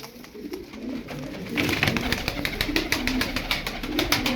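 White tumbler pigeons, a paired male and female kept as flying play birds, coo in low repeated throaty phrases close by, with steady fluttering and rustling behind them.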